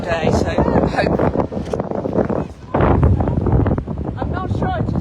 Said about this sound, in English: It's a windy old day